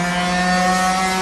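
A motorcycle engine drones loud and steady nearby, a sustained buzzing roar with strong harmonic hum and no talking.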